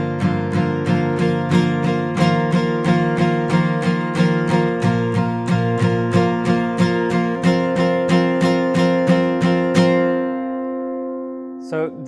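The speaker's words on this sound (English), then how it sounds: "You just keep playing all down strokes" Acoustic guitar strummed in steady eighth-note down strokes on the chords of a song, about two strums per half second, ringing out alone before a final faint tap.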